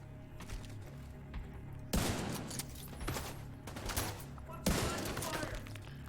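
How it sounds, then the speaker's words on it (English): Light machine gun fire in Division 2 at a Coney Island haunted house: several sustained rattling bursts, a couple of seconds each and separated by brief pauses, close and sharp against quieter game ambience. "Using a light machine gun here"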